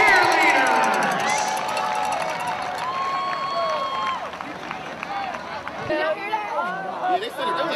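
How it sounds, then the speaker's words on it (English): A crowd at a high school senior night football game cheers and applauds for senior players and cheerleaders, loud and sustained, with shouting, whistles and chatter mixed in, and a voice talking over it. "Let's have one more round of applause for our class of 2026 football players and cheerleaders."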